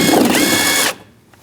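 Ratchet wrench loosening a 10mm bolt on a car's front power window regulator, a quick close burst of clicking that runs for under a second and then stops.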